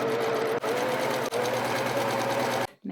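A sewing machine runs fast and steadily, close and loud, stitching a trouser waist seam twice, with two brief dips in its hum before it stops.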